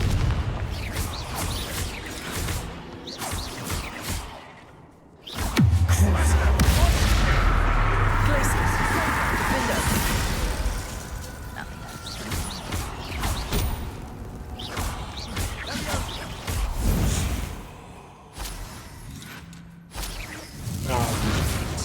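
Confringo fire-blast spells in the Hogwarts Legacy video game, a loud burst erupting around five seconds into a sustained rumbling, crackling combat din, with further impacts and voices talking over the battle.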